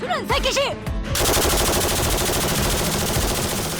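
Military special forces live-fire assault: after a brief lead-in, machine guns open up in a dense, continuous close-range burst of automatic gunfire that fills the remainder, loud and unbroken.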